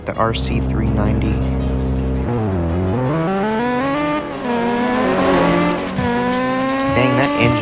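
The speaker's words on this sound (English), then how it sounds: "Dang, that engine noise is bad." A KTM RC390 motorcycle in a video game revs with a thin, high, buzzing engine note that swoops up and down through gear changes, loud and continuous, with some tire noise.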